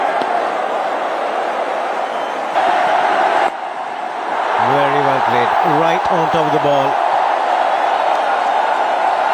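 Stadium crowd at a cricket match in Mumbai roars steadily for Tendulkar during his last innings, a loud continuous swell with a brief dip midway, under a commentator talking over it.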